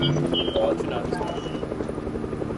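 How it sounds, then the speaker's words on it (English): A helicopter's rotor thrums steadily throughout in the video game Fortnite, with a voice talking over it. "Teammates, a helicopter."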